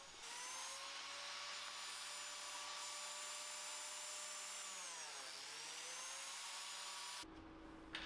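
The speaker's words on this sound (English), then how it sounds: "then I can plunge it and cut the slot" A biscuit joiner spins up and plunges into wood to cut slots, giving a loud, steady whine that dips in pitch as the blade bites, then cuts off abruptly near the end, with no talking.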